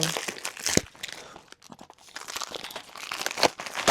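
Crinkly plastic packaging of faux locs hair supplies being handled and pried open, with loud bursts of crumpling and crackling rustle, short pauses between, close up and without speech.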